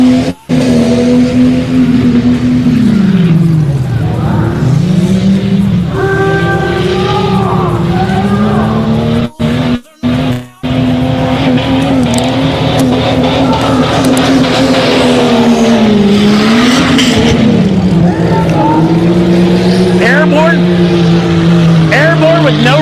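A mud bog truck with no rear drive shaft roars through deep mud at an Orangeburg mud bog, its engine revving hard and loud in sustained rising and falling pitch, with brief cutouts and a commentator's voice over it.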